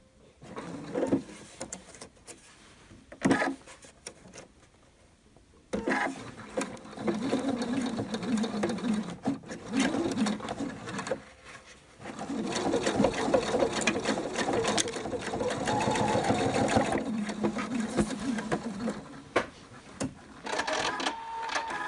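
Sewing machine stitching a fabric face mask, its motor running in bursts of rapid mechanical whirring with short pauses between seams, close and steady.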